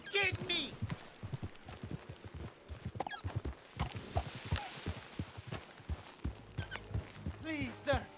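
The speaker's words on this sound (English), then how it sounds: "Please, sir, can you help me get my horse back? She bolted on me." Horse hooves in the video game Red Dead Redemption 2, a rapid steady clip-clop of a running horse, close and loud, with whinnies and a voice over the galloping.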